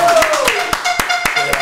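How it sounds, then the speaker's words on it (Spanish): A handful of sharp, evenly spaced hand claps ring out in a podcast studio to welcome a guest, crisp and close against continuous talking. "Un aplauso para la potra."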